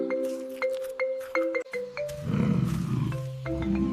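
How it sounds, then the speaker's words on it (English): A lion gives a deep, rumbling roar of about two seconds after a series of light chimes and plinks, loud and close with no talking. "I hear a roar. Which animal loves juicy meat to stay strong? It's the mighty lion."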